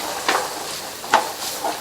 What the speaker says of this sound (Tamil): இந்த வெஜிடபிள்ஸ் எல்லாம் வதக்கி விட்டுக்கலாம்.